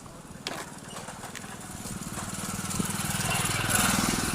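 A motorcycle engine runs close by with a rapid, steady putter that grows gradually louder as it revs, while voices talk nearby.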